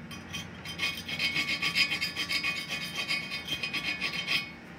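Burnt residue scraped off an aluminum surface after laser cleaning, a close, rhythmic rasping scrape repeating back and forth for several seconds with no talking.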